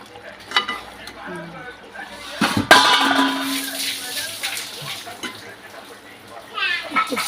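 Okra and tomato curry, Andhra style, cooking in oil in a pan: soft sizzling and stirring scrapes with a sharp clatter midway, while a person speaks over it.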